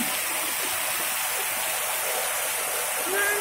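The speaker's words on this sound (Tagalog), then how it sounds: "It's really heavy rain." A dense, steady roar of heavy rain with strong wind pours down without letup during a storm in Bohol, loud and close, with a faint brief tone near the end.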